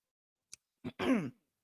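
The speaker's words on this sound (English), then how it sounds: "Hold on, I got a cough." A single close cough with a short raspy lead-in, then a throaty voiced burst, set against near silence.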